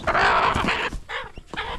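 A mother hen with newly hatched chicks clucks close by in a few short, throaty bursts separated by brief pauses.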